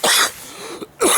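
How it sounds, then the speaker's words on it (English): A man coughs on camera in a couple of sharp, loud bursts separated by a short pause, with no speech. "Sorry about the coughing on camera"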